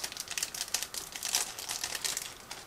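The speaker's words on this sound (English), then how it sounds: "we had this small plastic sprue in the tiny plastic bag, so again I will need scissors in order to open it" A tiny plastic bag holding a small plastic sprue from a 1/35 scale model kit crinkles and rustles up close as it is cut open with scissors, a busy run of crackly handling noise without talk.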